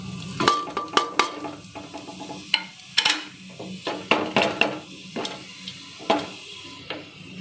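Whole spices such as black cardamom, plus asafoetida, go into hot oil in a pan, sizzling softly beneath a series of sharp metallic clinks and taps from a utensil, close and fairly loud.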